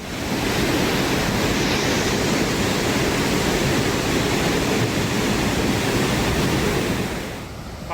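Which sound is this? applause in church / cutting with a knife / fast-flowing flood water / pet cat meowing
fast-flowing flood water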